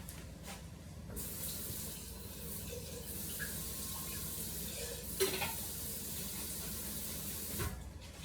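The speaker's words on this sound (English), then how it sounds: "I'm going to add a little water to this" Water poured into a pot of ziti gives a soft, continuous rushing splash over several seconds, faint and steady, with a small clink partway through.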